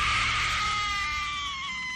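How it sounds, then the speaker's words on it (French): Drawn-out, high, wavering scream of suffering echoing across a mountain in a dark fantasy setting, loud at the start and slowly fading as it trails away. "Un hurlement de souffrance ignoble retentit sur toute la montagne."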